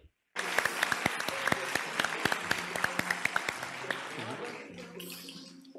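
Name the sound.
applause at award ceremony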